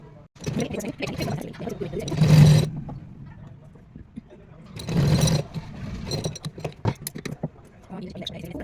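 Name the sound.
sewing machine stitching cloth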